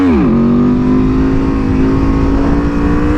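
An Aprilia Tuono motorcycle revs hard as its engine pitch climbs and then holds steady while accelerating for a wheelie, loud and close, with no talk.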